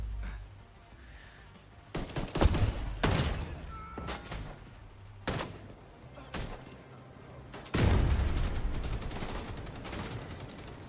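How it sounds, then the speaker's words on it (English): Grenade blasts and bursts of gunfire in The Division 2 firefight: several sharp loud impacts around two to three seconds in, scattered shots after, then a heavy rumbling explosion near eight seconds that decays slowly, with no talk. "Grenade!"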